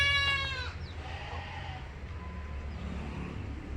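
A single goat bleat opens, short and quavering, then fades into quiet background rumble with faint distant sounds.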